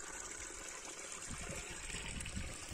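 Dirty sewage water trickles and gushes steadily through pipes in a low, continuous wash, with no voices.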